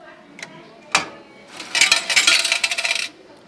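Change coins from a Japanese restaurant ticket vending machine drop into the tray, a couple of isolated clinks followed by a dense rattling cascade of metal coins, close and loud.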